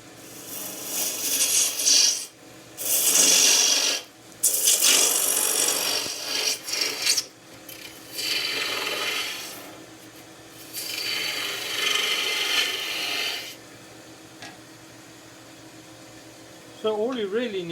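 A 3/8 asymmetric bowl gouge with a short right wing shears wood on a spinning lathe in repeated rasping passes with short pauses between, close and fairly loud, with a voice briefly near the end.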